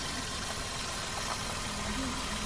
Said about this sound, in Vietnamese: Đấy, máy rất là êm và được bảo dưỡng định kỳ thường xuyên.